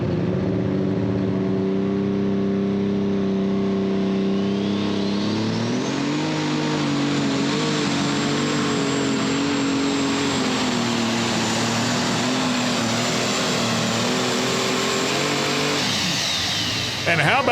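A super modified pulling tractor engine roars loud and close through a 2017 pull at Hillsboro. The pitch climbs sharply about a third of the way in, then holds a sustained high-revving howl, with an announcer talking over it.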